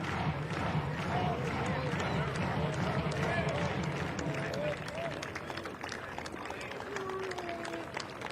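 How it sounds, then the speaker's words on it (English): Clemson Tiger fans clap and cheer in the stands at a college baseball game, a steady crowd roar with rhythmic clapping running throughout while a commentator talks over it. "Tiger fans clapping, making some noise"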